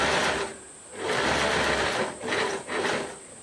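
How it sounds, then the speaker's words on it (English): A sewing machine stitches swimsuit fabric over pins, running in loud, close bursts of steady whirring that pause briefly in between. "I'm terrible and I sew over my pins."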